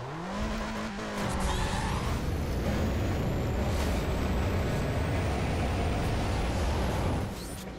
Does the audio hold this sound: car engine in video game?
yes